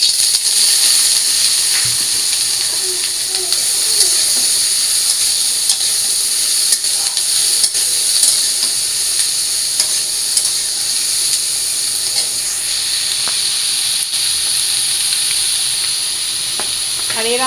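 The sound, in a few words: frying vegetables in a pan for fried rice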